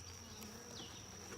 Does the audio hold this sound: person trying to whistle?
no